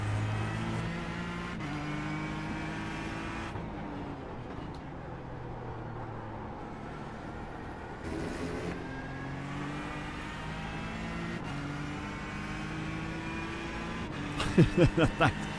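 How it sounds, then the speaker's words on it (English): Porsche GTE race car engine in the iRacing simulator, rising and falling through gear changes with steady whining pitch sweeps, moderately loud and continuous, with a brief burst of rapid clicks near the end. "chat reliably informs me that the Porsche GTE is the best sounding car in iRacing"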